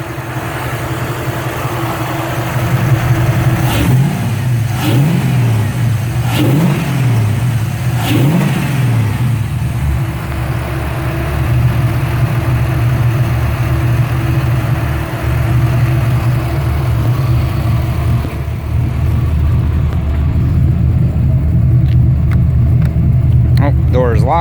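A V8-swapped Mazda RX-7 runs steadily after a cold start, its deep engine drone continuous throughout with a few brief rises in revs early on; a voice speaks intermittently over it.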